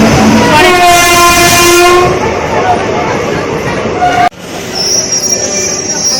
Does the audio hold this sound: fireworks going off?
no